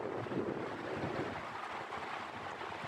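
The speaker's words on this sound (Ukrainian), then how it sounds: "Ось такий піднявся вітер." Steady wind roaring and buffeting the microphone, a constant broad rush with gusty low rumble throughout, no voices, as wind rises through pine trees in snowy weather.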